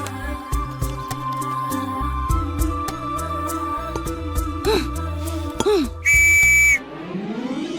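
A sharp, shrill whistle blast sounds for under a second near the end, loud and steady, over a busy background of hum and clatter.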